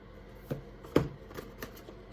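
Soft, quiet riffling of tarot cards being shuffled, a few short flicks and taps spaced about half a second apart.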